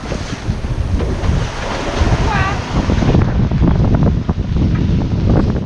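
Big breaking ocean waves and strong wind off the coast of Haiti aboard a sailboat, heavy wind buffeting the microphone over continuous rushing water and surges of surf, with a faint voice briefly audible.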